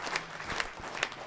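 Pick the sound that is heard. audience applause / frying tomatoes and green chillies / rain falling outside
audience applause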